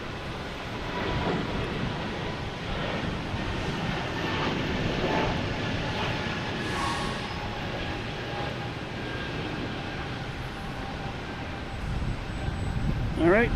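A PAL Airlines plane arriving from Halifax at Boston Logan Airport produces a sustained broad engine roar that holds steady and rises slightly toward the end, with speech faintly underneath.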